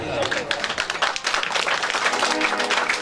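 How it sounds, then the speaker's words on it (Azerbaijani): Guests at a wedding celebration clap for the newlyweds, a rhythmic, lively clapping that runs throughout with crowd noise and voices mixed in. "belə gözəl gündə bu cütlüyü bəlkə ürəkdən alqışlayaq"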